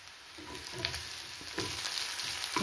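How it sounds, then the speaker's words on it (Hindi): Chopped onion and finely chopped capsicum frying in a pan, a soft steady sizzle with faint crackles and occasional stirring scrapes, close and quiet, with no talk. "सबको हल्का भूनने के बाद यहीं पे डाल देंगे हम"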